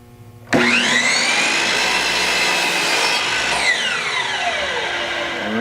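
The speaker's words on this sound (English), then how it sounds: "hold the blade down until it stops, trim the piece" A power saw blade cuts a wooden frame piece: the motor starts abruptly with a loud, steady whine held for several seconds, then winds down with a falling pitch as the blade coasts to a stop.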